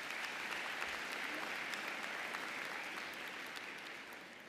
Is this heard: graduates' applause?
yes